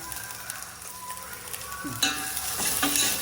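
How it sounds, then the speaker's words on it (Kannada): Onions sizzle in oil in a brass pan while being stirred, a steady frying crackle that grows busier after a spatula scrape partway through, with no talking. "ಈಗ ಉಳ್ಳಾಗಡ್ಡೆ ಎಲ್ಲ ಫ್ರೈ ಆಗೈತಿ."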